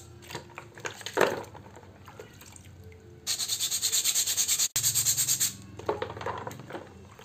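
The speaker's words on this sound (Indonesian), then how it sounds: "Setelah cukup bersih, bagian kampasnya kita amplas aja." Brake pads from a Honda Jazz are sanded by hand with sandpaper in quick, rhythmic back-and-forth strokes, close and fairly loud, in two bursts with a short pause between.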